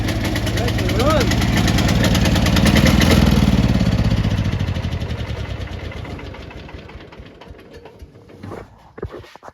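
The small engine of a John Deere 210 lawn tractor runs roughly after a revival, a loud close chugging with knocking that fades and sputters toward the end as though flooded, with a voice over it.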